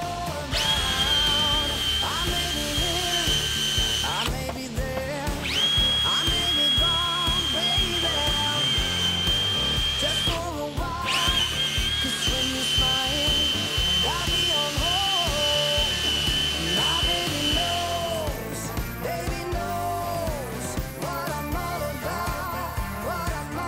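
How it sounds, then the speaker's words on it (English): A drill whines steadily at high pitch while a calico polishing wheel rubs against steel boat handrails, with brief stops and restarts and a scratchy grinding texture throughout. "go through with a calico wheel on the drill"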